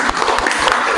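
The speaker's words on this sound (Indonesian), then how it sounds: "Oke, tepuk tangan." Brief burst of clapping from a classroom of students during a computer networking lesson, loud and close, dense hand claps filling about a second.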